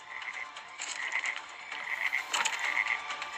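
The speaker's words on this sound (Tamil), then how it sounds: "3 பக்கமும் தவளைகள் அவனை நெருங்கி வந்தது" Frogs croak in a dense, continuous chorus of overlapping calls, steady and fairly close, with no voices.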